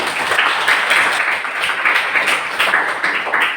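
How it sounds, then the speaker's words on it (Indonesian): Classroom applause from a group of schoolchildren, a steady, fairly loud patter of many small hands clapping close by with rhythmic surges, continuing without pause throughout. "Tepuk tangan."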